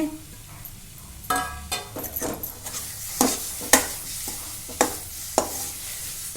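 Finely chopped ingredients, including dry coconut, fry and get stirred in a pan for a Karnataka kobbari kadabu filling, with soft sizzling and repeated sharp scraping clinks of the spatula against the pan, some moments louder than others.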